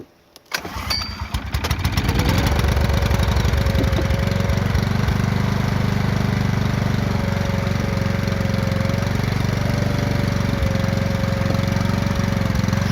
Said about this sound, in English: it was time to fill some fuel into the tank and test the generator